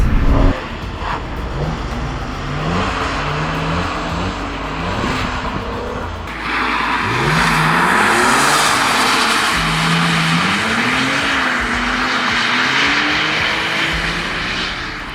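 A car drifts around a track at a drift-training session, its engine droning and revving in rising and falling sweeps, with a heavy acceleration surge partway through and a loud, continuous roar to the end.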